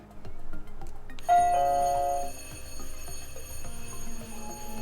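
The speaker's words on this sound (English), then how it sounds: "just like a normal doorbell that you would expect" A Nest Hello video doorbell chimes indoors with a clear, ringing bell tone that sustains and slowly fades over a soft, steady background hum.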